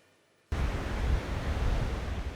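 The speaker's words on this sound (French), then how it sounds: "Au bord de ces vagues paisibles à Grand-Bassam" Ocean waves at Grand-Bassam beach, a steady broad wash of surf that swells in abruptly and rolls on continuously, loud and close with some wind rumble.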